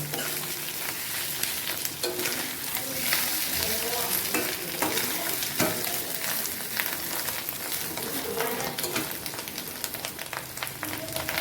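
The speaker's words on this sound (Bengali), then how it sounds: "কি সুন্দর খয়ের মতো ফুটতে শুরু করেছে মাছের ডিমগুলো" Fish roe frying in a pan with loud, crackling bubbles and spitting oil, plus frequent stirring scrapes, all close and continuous with no pause.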